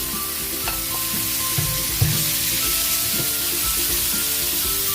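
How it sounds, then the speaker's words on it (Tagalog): Pork marinated in pickle liquid sizzles loudly as it sautés in a pan. The hiss is steady and continuous, with occasional stirring clatter close by and no voices. "Habang nagigisa tayo para sa ating pork pickles"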